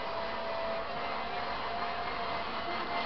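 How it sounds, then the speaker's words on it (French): Vacuum cleaner running steadily, a continuous broadband whooshing roar with a faint tonal whine, close and unchanging throughout with no voices. "Et l'aspirateur aussi, hein."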